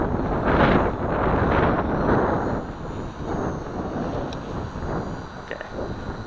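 An XK K130 RC helicopter flies into a headwind, its rotor whining and squealing in faint rising tones over heavy, gusting wind rumble buffeting the microphone.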